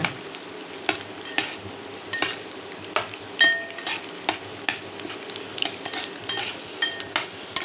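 Herb leaves fry in oil for a joint-pain remedy while a utensil stirs and scrapes the pan, giving a soft sizzle under regular, sharp clinks and taps about once a second.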